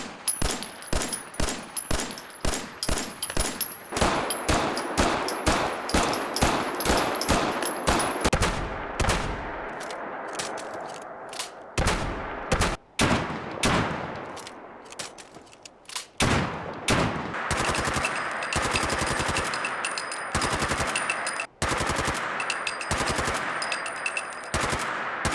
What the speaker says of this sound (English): this mod overhauls all gun sounds in the game, making them more realistic and modern